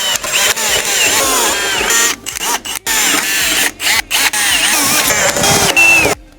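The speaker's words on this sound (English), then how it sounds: "pilot hole first, and then I'll drill the spot weld out." A power drill bores out spot welds on a BMW X1 frame, loud and close, whining through several long bursts broken by short pauses, ending with a brief high squeal.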